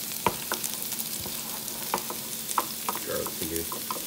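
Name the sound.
red peppers and onions frying in a pan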